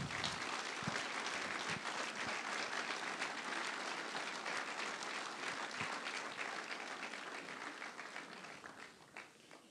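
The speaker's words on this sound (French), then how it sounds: "vous pouvez l'applaudir" Audience applause at a town hall New Year's greetings ceremony in La Farlède, honoring the honorary former mayor: dense, steady clapping from a large crowd that holds for nearly ten seconds and tapers slightly at the end.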